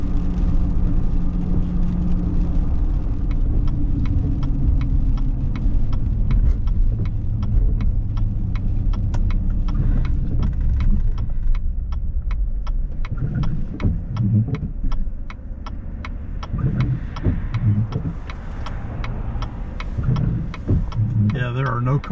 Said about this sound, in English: Cars in this parking lot.